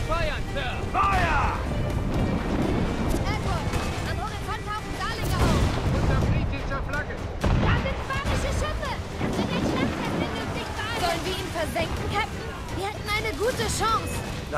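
Ship cannons firing in Assassin's Creed 4: Black Flag, with repeated heavy booms and crashes over a constant roar of sea and battle noise, while German-speaking voices shout throughout.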